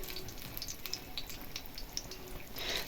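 Food fries uncovered in a pan in a home kitchen with steady sizzling crackles and sharp little pops scattered throughout, close and continuous.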